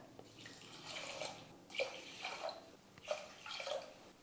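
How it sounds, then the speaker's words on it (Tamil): Water is poured onto rice in a pressure cooker, three cups of water to one cup of rice, giving a soft splashing pour that swells in several uneven surges, close by and fairly quiet. "1 டம்ளர் அரிசிக்கு 3 டம்ளர் வந்து தண்ணி சேர்த்துக்கிறேன்."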